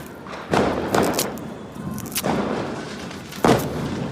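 Diwali firecrackers go off in a quick series of loud, sharp bangs, about four bursts spread over a few seconds with no voices.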